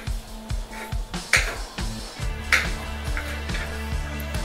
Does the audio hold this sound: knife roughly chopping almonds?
yes